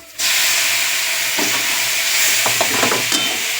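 Pasta sautéed in a hot pan with a little biryani masala gives a sudden loud, continuous hissing sizzle that starts abruptly and holds steady, broken by scraping stirs and clatter from the spoon toward the end.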